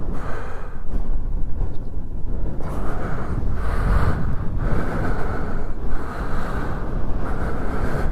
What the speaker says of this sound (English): It's quite windy, like.